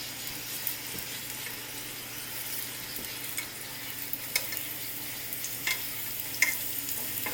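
Empanadas lightly frying in vegetable oil in a saute pan make a steady, moderate sizzle, with a few soft clicks and taps from handling scattered across it.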